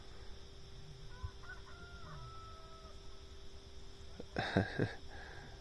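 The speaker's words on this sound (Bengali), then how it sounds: "মোরগ ডাকছে" At dawn at Kalash camp in the Sundarbans, a rooster kept aboard a boat crows a few times, distant at first and then a louder, nearer crow over a steady engine-like hum.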